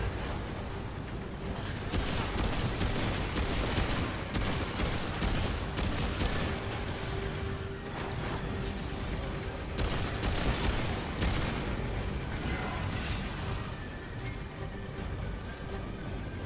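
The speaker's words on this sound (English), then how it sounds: "I'll shoot the crystal." Sustained rapid gunfire in the Remnant 2 video game as players shoot at crystals in a tower, dense continuous bursts filling the whole stretch with voices talking over the shooting.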